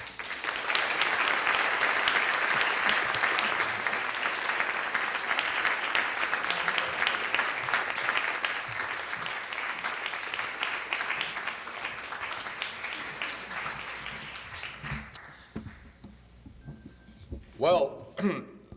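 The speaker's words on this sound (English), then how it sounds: "let us give him a big applause for coming to our university and DIS" Audience applause fills a university lecture hall for a visiting speaker, a dense sustained roar of many hands lasting about fifteen seconds before fading into scattered claps and a voice beginning to speak.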